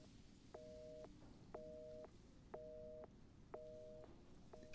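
A telephone busy signal in Resident Evil 7 repeats in even on-off bursts, five pulses over a low, hissing background, with nobody talking.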